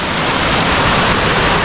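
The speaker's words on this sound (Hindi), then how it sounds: "पानी का फोर्स तो ज़्यादा है कि मेरी आवाज़ भी नहीं सुनाई देगी" Rainbow Falls, a powerful waterfall on a trekking route near the Double Decker Root Bridge, roars at close range as a dense, unbroken rush of falling water that fills everything, loud and steady throughout with no voices.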